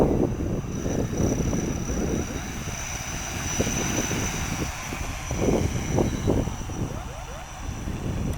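The Palantir III multirotor drone with flexible TPU arms hovers in position hold, giving a continuous steady whine from its motors at moderate distance, with wind buffeting and rough rumbles underneath.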